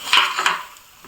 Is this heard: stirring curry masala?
yes